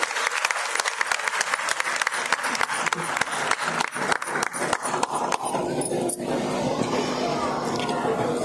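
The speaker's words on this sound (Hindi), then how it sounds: "जोरदार तालियां हमारी बहन की।" A crowd at a women's conference in Panchkula claps loudly and steadily in a dense burst of applause, close and sustained for several seconds before it thins out toward the end.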